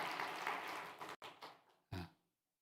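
A church congregation breaks into clapping during a Sunday worship service, a dense wash of many hands that fades out, then a short final burst of applause after a brief gap.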